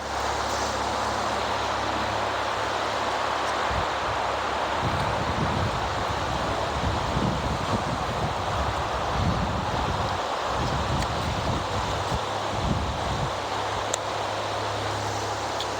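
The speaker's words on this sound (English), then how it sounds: "Whew, windy." Wind roars and buffets outdoors in a continuous rush, with gusts rumbling against the microphone and faint rustling throughout.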